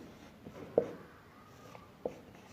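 A pen writes on paper while a maths problem is worked out, giving a faint, steady scratching with a couple of light taps as strokes land, close by and quiet.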